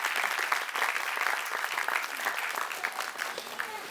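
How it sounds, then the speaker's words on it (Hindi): Preschool event audience gives a teacher a steady round of applause, fairly distant and even throughout, with a little crowd murmur underneath. "एक बार जोरदार तालियां हो जाए मैम के लिए भी."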